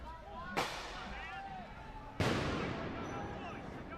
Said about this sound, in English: Throwing more grenades.